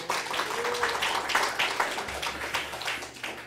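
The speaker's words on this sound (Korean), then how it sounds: "박수 한번." A church congregation applauds, with steady overlapping hand claps from a modest crowd in a reverberant room and a faint voice briefly underneath.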